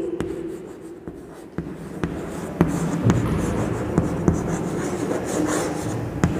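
A pen scratches across paper close up, a steady soft rubbing scrawl punctuated by small taps as strokes begin, heard alone.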